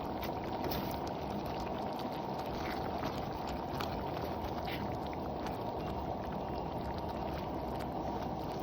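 A pot of Thai crab curry with coconut milk and betel leaves bubbles steadily on the stove, a constant dense simmering hiss and burble that stays even and unbroken throughout, with no voices.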